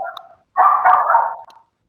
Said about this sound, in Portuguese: Esse cachorro é aí